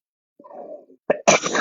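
A single close, loud sneeze, a soft intake building up and then a sharp, breathy burst.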